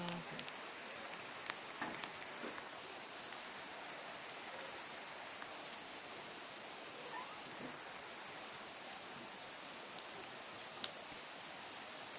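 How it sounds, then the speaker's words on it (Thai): Steady rain falls outdoors at a home in forested hills during a cookout of salt-crusted grilled tilapia, a continuous even hiss with occasional nearby drips and no talk. "ตกบนมือครับฝน"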